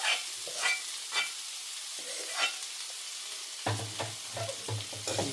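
Jackfruit pieces stirred in oil left from frying fish, with soft sizzling and repeated scraping strokes of a spoon against the pan, then heavier clattering stirs near the end.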